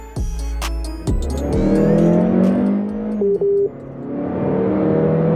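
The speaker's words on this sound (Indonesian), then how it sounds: "Suara knalpotnya itu dia emang sporty, ada 2 lagi dia." A 2024 Mazda 3 Hatchback engine revs and accelerates with a throaty, sporty exhaust note, pitch rising then settling, loud and close.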